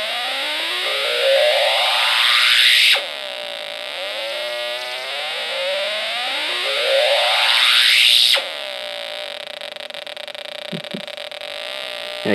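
A Snap Circuits electronic tone generator with a photoresistor and charging capacitor, producing a loud buzzy tone that sweeps upward in pitch, cuts off, and repeats, followed by a steadier warbling tone.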